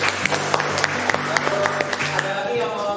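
Class audience applause heard as scattered, fairly close hand claps over a background hum, with people talking across the claps in a classroom setting.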